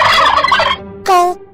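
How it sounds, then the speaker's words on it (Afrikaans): A turkey lets out a loud, rapid gobble, then a second shorter gobbling call after a brief pause, close and clear with nothing else around. "Kalkoen."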